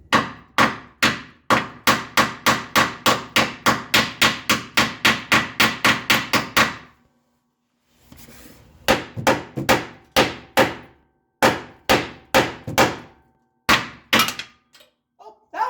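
A hammer striking a bolt on a leaf spring bracket of a 1997 Ford Ranger, a long run of rapid, evenly spaced loud metallic blows, a brief pause, then more bursts of hits, close and without talk.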